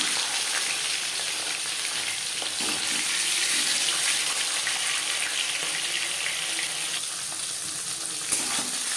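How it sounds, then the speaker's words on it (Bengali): Marinated sar puti fish sizzles in oil heated on a high flame, a loud, steady, close-up frying hiss that holds for the whole stretch with no voices. "এবার দিয়ে দেব ম্যারিনেট করে রাখা মাছ"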